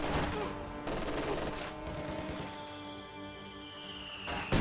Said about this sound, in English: That machine gun will not be able to do much against the squad in green cover